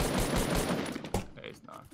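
Rapid automatic gunfire in the Fortnite battle royale video game crackles in dense bursts for about a second, followed by a few scattered shots and fading echoes.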